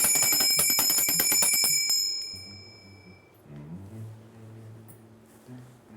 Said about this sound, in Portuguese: deixa eu pegar aqui o meu sininho